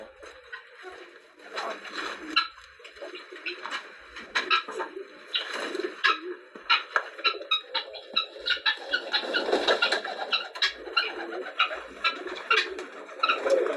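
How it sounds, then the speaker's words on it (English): Pigeons cooing close by at a villa, repeated soft throaty coos and calls in an uneven rhythm, with some faint background rustle and no clear talking. "Okay, the pigeon."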